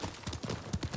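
Horse hooves clip-clop in Ghost of Tsushima, a quick run of close, soft hoofbeats in an uneven trotting rhythm with nothing else over them.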